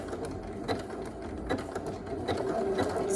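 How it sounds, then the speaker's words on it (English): A sewing machine runs a 5/8-inch shoulder seam on a simple summer dress. The motor whirs continuously and close by, with a rapid mechanical needle clatter throughout and no talking. "Drop down your needle and go ahead and take your first stitch, back stitch, and then continue"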